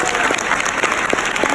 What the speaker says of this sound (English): can we get another round of applause for Emily, please?